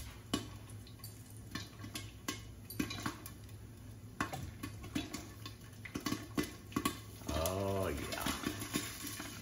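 A pot of stovetop popcorn with butter being shaken, metal lid and pan rattling in irregular scrapes and clanks, close and fairly quiet, with someone talking over it.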